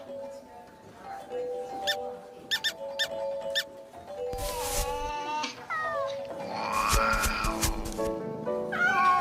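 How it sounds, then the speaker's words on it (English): Cartoon cats in an animated episode yowl and meow loudly in overlapping bursts, with squeaky calls and drawn-out caterwauls piling up over a busy backdrop. "Kick-up-a-din cats with boisterous ways."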